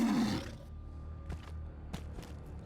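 A tiger in the video game Shadow of the Tomb Raider lets out a loud, close roar that fades within half a second, followed by a few softer thuds and rustles.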